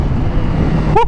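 A Suzuki Gixxer motorcycle downshifting with its auto blipper: a steady engine drone runs throughout, then near the end a sharp rev blip rises quickly and falls away.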